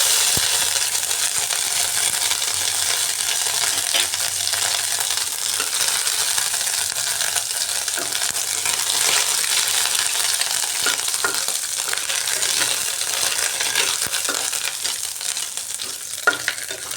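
Chopped ginger frying in a hot spice tempering for a vegetarian Bengali ash gourd curry, a steady dense sizzle running throughout with occasional faint clicks of a utensil against the pan.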